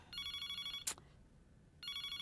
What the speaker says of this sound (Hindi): फोन बज रहा है, देखो तो कौन है।